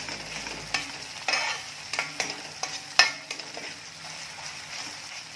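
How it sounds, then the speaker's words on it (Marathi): Tomato being mashed and stirred into a bottle gourd curry in a pan, with a soft steady sizzle under repeated scraping strokes and a few sharper clinks of the spoon against the metal. "टोमॅटो शक्यतो असा स्मॅश करून घ्यायचा"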